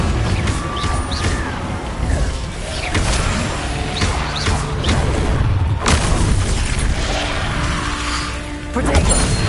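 Confringo fire spell blasts in Hogwarts Legacy on PS5, dense bursts of crashing booms and whooshing impacts rolling one into another, loud and continuous, with a heavier explosion near the middle and another surge at the end.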